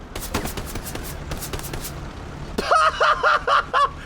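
Gunfire in the WWII shooter Hell Let Loose: a quick run of sharp shots early on, then a burst of louder, closer reports with harsh ringing, all over dense battlefield din.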